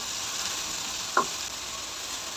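Chopped onions sizzle steadily in four to five tablespoons of oil in a pan, a soft, even frying hiss with one small click partway through and no voices.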